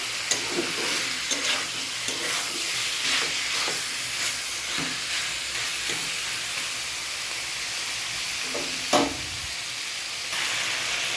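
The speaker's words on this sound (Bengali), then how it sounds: "মাংসের থেকে একটু জলও ছাড়বে, একটু কষাতে হবে ভালো মতন।" Meat sautéing in a pan for a Bengali curry crackles and hisses loudly and steadily up close, with repeated scraping stirs and a clatter of the utensil near the end, no voices present.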